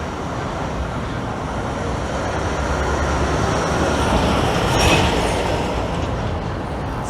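Streetcar rumbling along a Toronto city street, a steady low rolling roar with traffic noise that swells slightly as it passes nearby.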